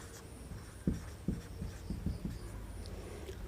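Pen or chalk writing out an equation by hand during a Class 10 maths lesson on linear equations in two variables: a handful of distinct taps and short strokes in a slow, uneven rhythm over a quiet room hum.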